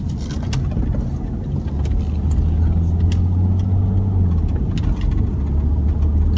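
Low, steady engine drone of a BMW 530d xDrive Touring climbing a hill at under 1500 rpm, heard from inside the cabin with faint road noise, continuous and moderately loud.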